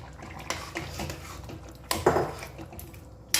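A metal lid clanks onto a cooking pot of raw pumpkin and fish simmering in a home kitchen, with a few sharp knocks amid soft utensil clatter.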